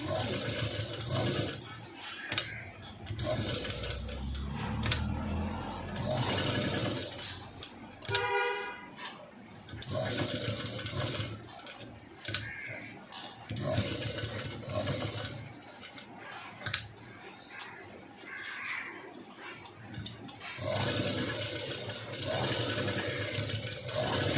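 Electric sewing machine stitching a black cut-work princess-cut blouse design, running in repeated bursts with a rapid mechanical whirr, stopping and restarting between runs.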